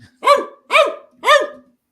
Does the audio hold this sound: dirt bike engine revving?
no